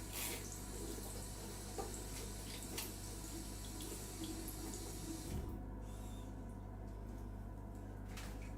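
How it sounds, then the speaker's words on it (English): Steady running water pours from a faucet into a bathtub, a continuous hiss and splash close by throughout, with a brief clunk midway and no talking. "Is it called a faucet?"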